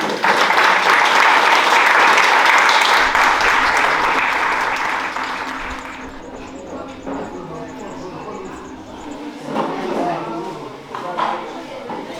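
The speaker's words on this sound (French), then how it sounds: "Vous pouvez vous applaudir." An audience at the Domaine de Saint Gilles breaks into loud applause that fades over several seconds, giving way to scattered claps, murmuring and people talking nearby.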